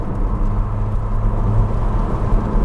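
A Ferrari 296 GTS hybrid supercar engine runs in a loud, steady low rumble with a constant droning tone, no voices over it.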